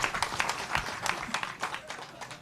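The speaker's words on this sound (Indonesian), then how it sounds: "Sip, tepuk tangan" Audience clapping during a spoken lecture gathering, a short burst of quiet, irregular claps with a murmur of voices.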